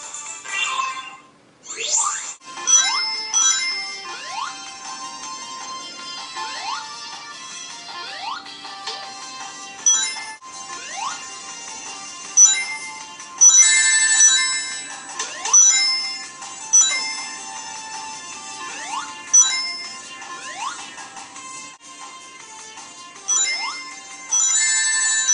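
Sonic video game music and effects play loudly from the HTC Titan II phone speaker, a bright, tinny stream of chiming notes and rising jingles with rhythmic accents throughout, no talking.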